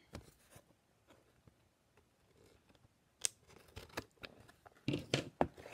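A pair of scissors is handled and snipped in a quiet room for paper crafting, with soft scattered clicks that turn into brisker, louder snips near the end.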